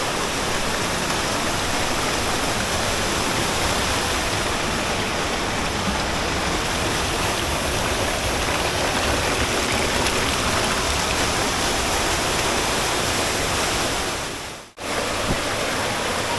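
Water rushes steadily inside Cueva de los Aviones near San Vicente de Chucurí, a loud, continuous roar of flowing water that fills the space, broken only by a sudden brief dropout near the end before resuming.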